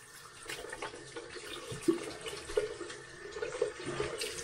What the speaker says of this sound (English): Let's run some water on that.